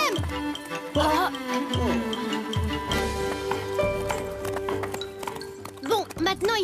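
Cartoon horses trot with a steady clip-clop rhythm, hooves tapping over lively music, with a brief whinny near the end.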